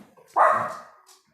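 A dog gives a single short bark, close and fairly loud, with a brief whining tail and quiet surroundings.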